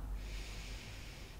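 Slow ujjayi yoga breath: one long, steady, throaty rush of air, close and soft, with no talking.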